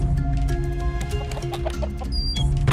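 Chickens in the survival game Raft cluck in short repeated bursts over a steady low in-game hum, loud and close, with a brief high electronic tone near the end.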